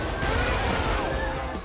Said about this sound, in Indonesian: langsung menembakkan senjatanya ke arah atas